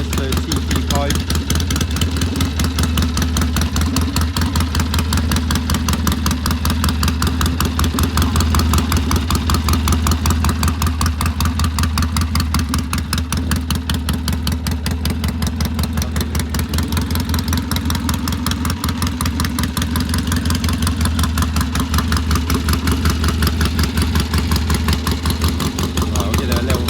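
A 1964 Triumph T120C Bonneville 650cc motorcycle with electronic ignition and TT pipes idles steadily and loudly close by, its low throbbing exhaust pulse running unbroken throughout.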